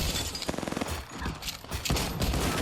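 Rapid gunfire in the Apex Legends video game, a quick burst of repeated shots followed by a dense, chaotic volley, loud and close, no voices.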